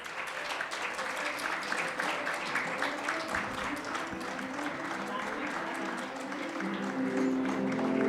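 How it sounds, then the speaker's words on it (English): An audience at an awards ceremony in Phuket, Thailand claps steadily and fairly loudly for several seconds, a dense sustained patter of many hands, with a voice speaking over it. "Ladies and gentlemen, a big round of applause."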